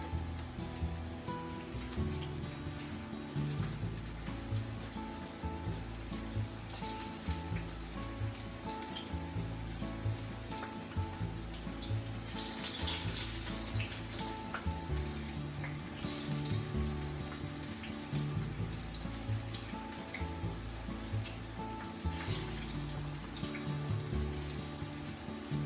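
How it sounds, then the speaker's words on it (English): Green beans for tempura frying in hot oil, giving a steady, dense sizzle with fine crackling and bubbling that runs unbroken throughout, close and fairly loud, with no voices. "And just fry them for 2 minutes."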